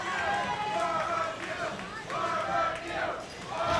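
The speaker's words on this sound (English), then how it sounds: "You can hear the crowd chanting for a barbecue" A crowd at a robot fighting championship chants in loud rhythmic waves that rise and fall, with indistinct voices layered through the noise.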